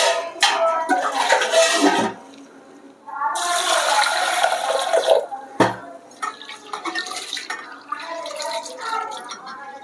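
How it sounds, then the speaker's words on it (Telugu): Toor dal lentils being rinsed in water in a home kitchen, with splashing and pouring bursts, a pause, then longer running water and swishing, close and fairly loud. "ఇప్పుడైతే పప్పు శుభ్రంగా కడిగేసుకుంటారండి మనం, కందిపప్పు."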